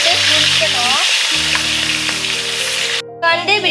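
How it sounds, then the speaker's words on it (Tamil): Chicken pieces, soaked in marinade, sizzle and crackle steadily in hot oil while being fried for a chicken sambal served with ghee rice. The loud frying runs continuously, with a short stirring scrape near the end and only faint background tones. "கோழி போட்டு பொரிக்கணும்."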